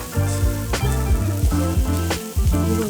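Rice fries on a hibachi griddle with a loud, continuous sizzle that swells slightly as it is stirred, with steady tonal music playing underneath.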